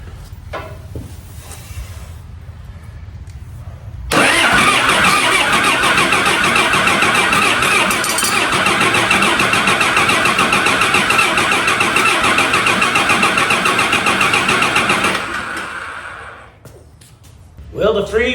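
Cummins diesel engine cranking over and trying to start, a loud, continuous churning drone lasting about eleven seconds after some quieter background noise, then fading out.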